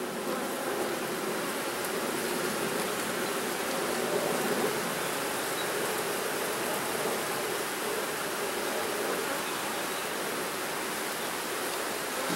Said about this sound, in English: Every one of these bees is coming in loaded with pollen